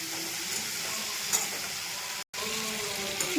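Food frying in a home kitchen pan, a steady even sizzle throughout, cut by one brief silent gap, no talking.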